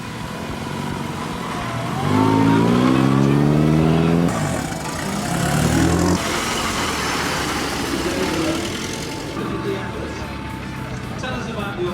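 A 1926 Oldsmobile vintage car engine revs and idles nearby at a hill climb event, rising and falling through a couple of bursts, with crowd chatter and voices mixed in around it.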